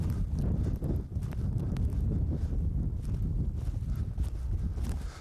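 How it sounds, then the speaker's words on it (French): An eight-year-old mare gallops with a steady, rapid clip-clop of hooves, heard continuously under heavy wind rumble against the microphone. "Là au moins on part sur une base où la jument elle a un galop correct."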